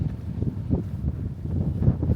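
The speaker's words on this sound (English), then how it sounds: "It's pretty windy." Wind blowing across an open farm in Illinois, a steady low rumbling buffet on the microphone with gusty swells and no voices.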